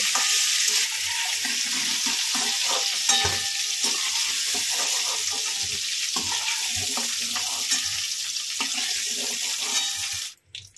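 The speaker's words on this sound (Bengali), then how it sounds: "ওই তেলের মধ্যে 1/2 চামচ কালো জিরে ফোড়নে দিলাম, আর 2টো কাঁচা লঙ্কা মুখ চিরে দিয়ে দিলাম ফোড়নে" Nigella seeds and two slit green chillies tempering in hot oil left from frying pointed gourd, a loud, dense, steady sizzle with crackles close by that cuts off abruptly near the end.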